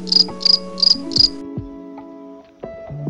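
Crickets chirp in four quick, evenly spaced bursts at the start, then fall silent, leaving faint background tones.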